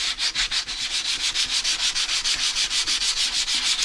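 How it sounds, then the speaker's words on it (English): A resin 3D print is wet-sanded by hand in quick, even back-and-forth strokes, producing a close, rhythmic rasping scrub repeating several times per second with no voices. "to do my wet sanding"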